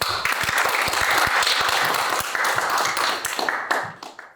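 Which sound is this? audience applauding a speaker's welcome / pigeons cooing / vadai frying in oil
audience applauding a speaker's welcome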